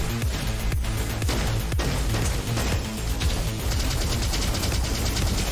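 Dense, loud automatic gunfire in a roguelike first-person shooter, an unbroken rapid rattle of shots layered with crashes and impacts all the way through.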